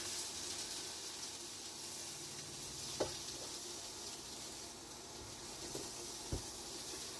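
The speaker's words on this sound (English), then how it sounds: "I've moved the chips into the pan because I'm doing some bacon" Chips and bacon fry together in a pan, making a continuous soft sizzle and hiss, fairly faint, with a couple of sharp stirring clicks against the pan.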